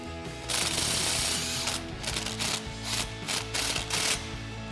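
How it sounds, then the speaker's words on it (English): An impact wrench with a 13mm socket runs in several short, loud bursts, snugging down an exhaust ball flare clamp on a 2019-2024 Sierra 1500 dual exhaust install. "Then we're going to grab our 13mm socket on our impact and get this snug down."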